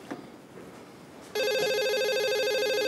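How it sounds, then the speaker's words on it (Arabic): A telephone at a pharmacy counter starts ringing about halfway through, a loud steady electronic ring that carries on to the end after a quiet room with faint background noise. "طيب رد على التليفون شوف مين"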